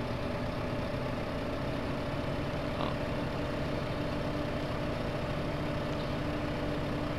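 A small tractor engine in Farming Simulator 15 runs at a steady low idle, a constant close rumble with no speech over it.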